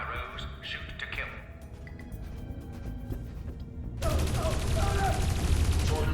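Gunfire in the video game Dreamfall: Chapters, a burst of shots that grows into a loud, sustained dense fusillade in the second half, heard over game ambience and earlier voices.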